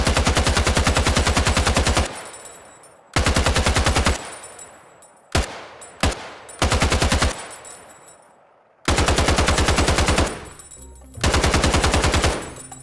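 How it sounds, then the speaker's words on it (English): Designed fully automatic gunfire for games, built from layered source recordings with bullet casings hitting the ground: loud, dense machine-gun bursts of about one to two seconds each, separated by short single shots and decaying tails. "There was one thing missing from this gun sound"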